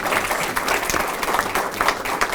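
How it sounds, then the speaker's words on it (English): A room of people at a student awards event claps for an honoree, a busy patter of hands at moderate volume with individual claps poking through, lasting a couple of seconds. "How about a round of applause for Joe Glavin?"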